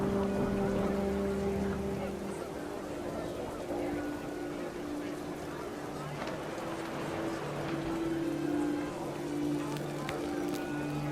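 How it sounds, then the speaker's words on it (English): Heavy rain pouring down in the video game What Remains of Edith Finch, a steady dense hiss of falling water throughout, with low sustained musical tones underneath and a voice narrating over it. "The rain came down in buckets then"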